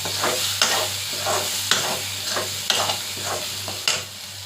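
Mutton brain frying in a pan while being stirred, a steady close sizzle broken by repeated scraping stir strokes roughly every second, with no voices.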